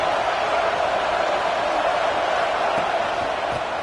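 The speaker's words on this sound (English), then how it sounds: "It's early, but this crowd is fired up. Listen to this noise here." Stadium crowd in the college football video game NCAA 26 roars as a dense, steady wall of noise with no breaks, broad and constant at moderate loudness, with a few faint whoops.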